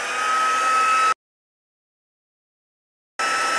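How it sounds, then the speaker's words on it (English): Embossing heat tool blowing hot air, a loud steady whooshing whine that stops abruptly, leaves a couple of seconds of silence, then starts again. "So now I'm going to take my heat tool."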